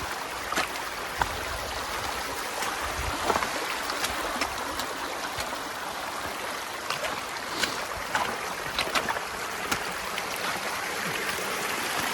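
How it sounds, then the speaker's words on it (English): A stream in the Great Smoky Mountains on the Appalachian Trail flows hard against a wading hiker, a dense, steady rushing wash close by with scattered splashes and clicks throughout, no talk. "it's just a stream flowing in my direction, flowing rather hard in my direction"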